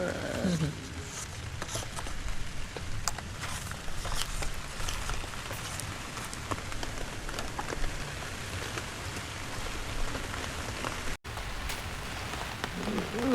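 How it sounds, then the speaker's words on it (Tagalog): Steady rain pattering on a surface, a continuous dense hiss with scattered drop taps, with faint voices occasionally underneath. "Ulan oh."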